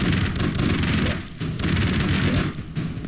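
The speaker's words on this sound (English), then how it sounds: "whether or not if he could die by his own explosions" Dense, continuous explosions and rapid gunfire from the video game Broforce, loud and chaotic with overlapping booms and bursts and only a short dip before the barrage resumes.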